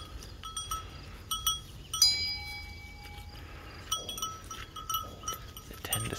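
Blackbelly Katahdin sheep with lambs in a field, with scattered light clanks and dings from a bell and brief animal sounds over a quiet outdoor background, with no talk.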